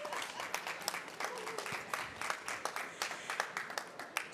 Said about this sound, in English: Let's give Danielle a round of applause